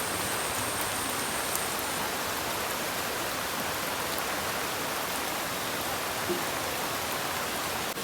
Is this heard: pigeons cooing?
no